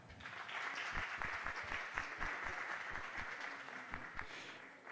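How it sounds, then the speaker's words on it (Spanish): An audience at a book presentation applauds steadily, with a dense wash of clapping from many hands and a few individual claps standing out near the front. "El doctor Óscar Perdiz Figueroa, a quien pido también un fuerte aplauso."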